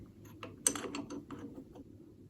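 Close, quiet ratcheting clicks and a sharp tick as a drill chuck is twisted tight by hand, several irregular clicks in quick succession.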